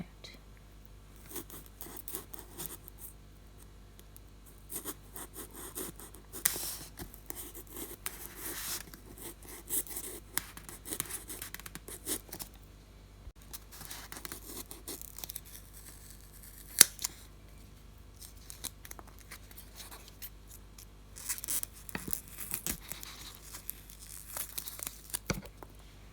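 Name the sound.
small knife cutting out a section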